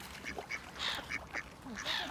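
Large swans on open water let out a series of nasal, honking calls at a moderate distance, several short cries spread over a couple of seconds against faint outdoor background noise.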